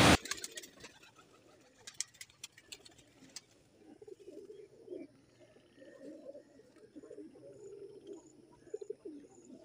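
Teddy-breed pigeons at a breeder's loft setup in Sialkot, Pakistan, give low repeated coos that run through most of the stretch, with a few sharp clattering knocks and brief chirps near the start.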